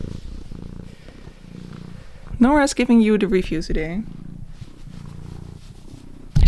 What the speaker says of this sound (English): She is an incredibly loud purr